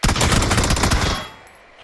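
Loud, close burst of MG49 machine gun fire in PUBG, a rapid continuous stream of rounds lasting about a second before it stops and a short tail fades out.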